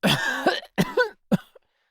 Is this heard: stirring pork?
no